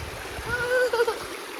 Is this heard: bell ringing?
no